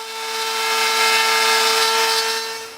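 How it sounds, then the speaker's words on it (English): A router fitted with a 1/4 inch plunge bit cuts a recess into walnut or silver maple for a platform bed, producing a steady high-pitched motor whine that swells and eases over a few seconds, with no voices. "Here I am cutting that additional recess. I'm using a 1/4 inch plunge router bit."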